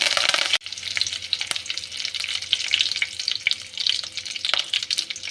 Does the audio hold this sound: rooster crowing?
no